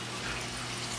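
Powerful 1,050-gallon-per-hour aquarium powerheads churn the water in a 46-gallon reef tank, giving a steady, close, full rushing and splashing wash.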